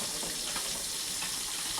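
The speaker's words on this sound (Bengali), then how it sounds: "তো মাছগুলো ভাজা হোক" Bhola fish frying in hot oil in a pan, a steady dense sizzle that holds at an even level throughout, close and continuous with no talking.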